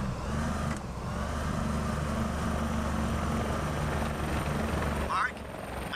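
Helicopter in the video game INFRA, a steady low rotor and engine drone running continuously and fairly close, briefly dipping near the end, with a voice talking over it.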